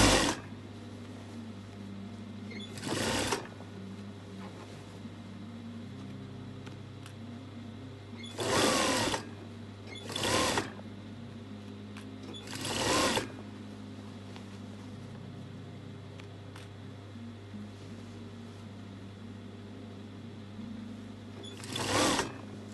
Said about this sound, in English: So I'll just continue to sew to the end.